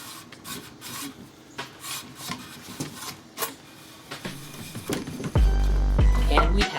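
A metal handle is pulled and rasped out of a chainmail ring winding jig, giving scraping, rubbing friction sounds in short strokes that end in a louder, steadier grinding run.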